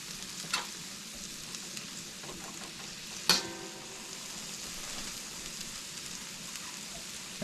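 Chicken and broccoli toasting in a pan for a stir fry, a faint steady sizzle with a couple of sharp clinks from a utensil against the pan.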